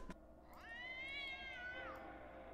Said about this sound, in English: Sorry, guys, it's my cat.